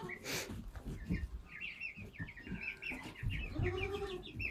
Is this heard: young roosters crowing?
yes